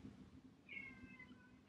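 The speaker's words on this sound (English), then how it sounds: "My cat is crying." A male house cat gives a single drawn-out meow, moderately quiet and close, over a low indoor background hum with no talking.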